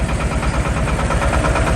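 A Shifeng 240 tractor engine idles to warm up, a steady, loud, close diesel chugging with an even rhythmic knock and no talk.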